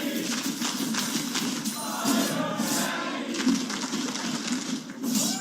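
An esports arena crowd at a North American League of Legends match roars continuously, a dense, loud wall of cheering and shouting that swells in waves throughout.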